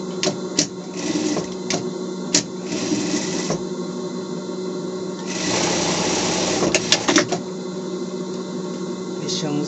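A sewing machine stitches a pocket seam on a Paw Patrol Chase costume, running in long loud bursts with pauses between, while a person talks over it.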